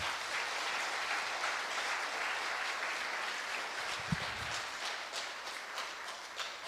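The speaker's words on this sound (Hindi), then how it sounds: "तालियां बजाएं और उसको धन्यवाद दें।" Congregation clapping steadily throughout a church service on resurrection baptism, a dense, even wash of applause at moderate level with no speech over it.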